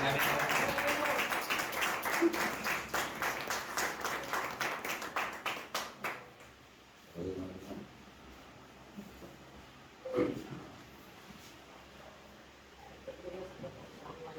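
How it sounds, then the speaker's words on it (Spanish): Audience applause at a Christmas gathering, a lively burst of clapping for about six seconds that then fades, leaving a quieter room with scattered sounds and some voices. "Un fuerte aplauso."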